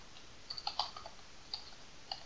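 A few soft, sparse clicks from a computer keyboard as a Python command to start a Django server is typed, with quiet gaps between keystrokes in an otherwise hushed room.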